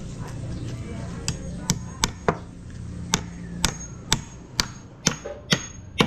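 Sharp metal hammer blows strike irregularly, about a dozen distinct knocks, during repair work on a motorcycle, over a steady low hum with occasional background voices.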